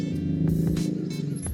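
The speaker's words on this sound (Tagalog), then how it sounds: "So traffic." Road traffic with cars passing close by heard from a rider on an electric bike, a steady engine rumble with a couple of brief whooshing passes.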